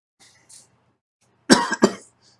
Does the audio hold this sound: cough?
yes